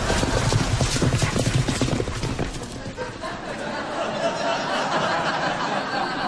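Horse hooves clip-clop in a quick rhythmic patter in a comedy scene, loudest at the start and then fading, with chatter and light laughter mixed in.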